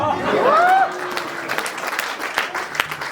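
A live audience claps at a Hindi kavi sammelan poetry gathering at a nursing college: steady, dense applause through the whole stretch, with a thin whistle-like tone early on and faint crowd murmur.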